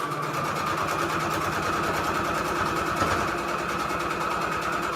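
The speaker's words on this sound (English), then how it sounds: "I'm literally going to sew all my little pieces," A sewing machine stitches fabric scraps onto patches with a steady, fast mechanical chatter and hum, running continuously at close range with no talk.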